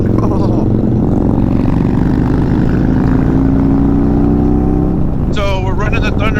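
A Harley-Davidson Softail Low Rider S with a 131ci Stage 4 engine and Thunder Max tune revs loudly and steadily up close, a deep continuous engine roar that rises in pitch before a voice breaks in near the end.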